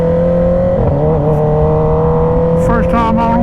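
A 2023 Kawasaki ZX-10R with new Brembo calipers and EBC brake pads drones steadily as it rides, engine pitch holding then dipping briefly and rising again, a rider's voice talking over it near the end.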